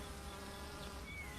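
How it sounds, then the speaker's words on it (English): Honey bees at a beehive make a continuous low buzzing drone, steady and dense, with no voices. "Thousands of female bees, called worker bees, live together in a hive with a queen bee."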